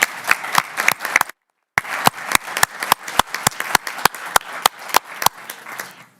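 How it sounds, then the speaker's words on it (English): Applause at a Reno city council meeting, sharp, fairly regular claps that break off briefly and then resume, close and loud. "Give her a round of applause."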